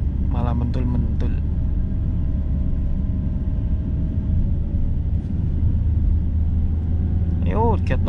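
An automatic car's engine strains up the steep Kopeng incline toward Magelang, a steady low rumble that runs throughout, with brief bursts of talking near the start and the end.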